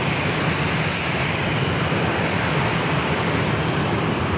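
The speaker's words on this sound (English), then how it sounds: "That was a Gulfstream that was just taken off, heading to Santa Rosa, California." Gulfstream jet taking off at San Diego airport, a continuous broad roar of engine noise, steady and fairly loud, with no voices over it.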